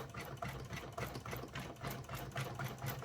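A Juki sewing machine runs in steady bursts, its rapid mechanical stitching clatter close and fairly loud with a low motor hum underneath, and no talking.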